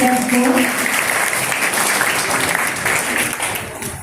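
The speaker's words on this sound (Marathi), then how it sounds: "सगळ्यांनी टाळ्या वाजवायच्या आहेत." Dense, sustained applause from a large audience at a girls' school Shivaji birth anniversary celebration in Nashik fills the space loudly and evenly, fading slightly at the end.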